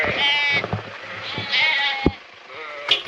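Lambs and sheep bleat repeatedly in a pen, several wavering cries close by and overlapping, with a few thumps and shuffles between calls.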